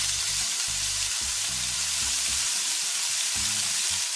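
Burger patties fry steadily in a pan, giving a loud, constant hissing sizzle that fills the whole stretch, with faint low thumps and clatter beneath.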